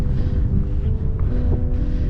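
Wind blows during a walk through Thrunton Woods in Northumberland, a constant loud low buffeting rush across the microphone with no break.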